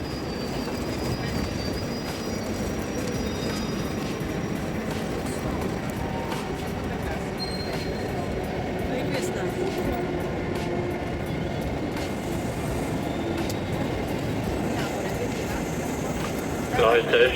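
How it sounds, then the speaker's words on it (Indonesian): An EC train bound for Prague via Dresden idles at a station platform, giving a steady, loud rumble and hum throughout with faint squeals, and no clear talk. "Ini kereta yang mau kita naikin ke"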